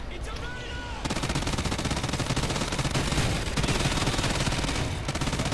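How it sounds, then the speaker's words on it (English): Rapid gatling gun fire from the Black Ops 3 video game, a dense sustained burst of shots that starts abruptly after a brief quieter lead-in and stays loud to the end. "He like it turns into a Gatling gun."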